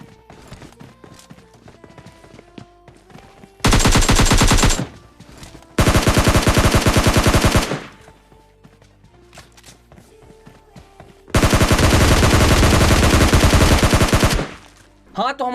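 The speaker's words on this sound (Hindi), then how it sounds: "गोलियों की आवाज आ गई थी" Loud bursts of automatic gunfire from PUBG Mobile Lite, three sustained rattling volleys separated by quieter in-game ambience with footsteps.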